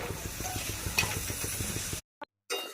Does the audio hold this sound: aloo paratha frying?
yes